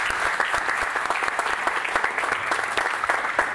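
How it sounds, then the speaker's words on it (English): Audience applause at a live stage performance, a dense, even burst of many hands clapping close by with rhythmic sharp claps standing out, continuing steadily without talk. "Give yourselves a round of applause,"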